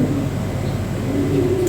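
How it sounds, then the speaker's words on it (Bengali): A pair of white Mundian pigeons coo softly in a steady, low murmur with faint chirps, close by and continuous, with no speech. "এক পেয়ার মুন্ডিয়ান আছে, সাদা মুন্ডিয়ান"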